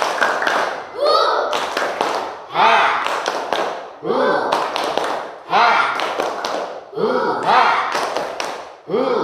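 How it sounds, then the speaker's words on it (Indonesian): A class of standing students performs a rhythmic tepuk semangat spirit clap, with repeated bursts of clapping in a set pattern, each group ending in loud unison shouts from many young voices. "Tepuk semangat."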